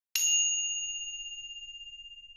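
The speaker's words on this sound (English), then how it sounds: "The PENGLING handbells really are a pair of small cup-shaped copper or brass bells connected by a string" A single bright metallic ding from a small brass pengling, a Chinese cup-shaped handbell, struck once and left ringing with a long, pure sustained tone that slowly fades.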